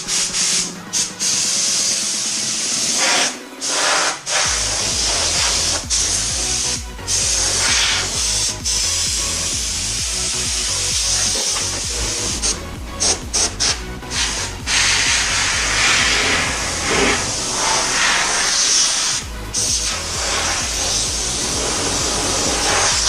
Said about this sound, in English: mix up and spray the primer